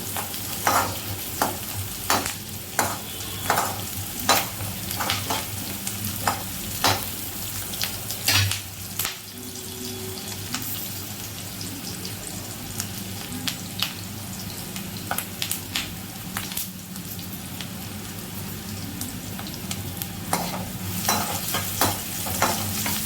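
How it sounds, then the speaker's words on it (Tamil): Onions sautéing in a pan for mushroom manchurian, a continuous oily sizzle broken by repeated scraping and clinking strokes of a spoon stirring against the pan, close and steady throughout. "வெங்காயம் நல்லா வதங்கட்டும்."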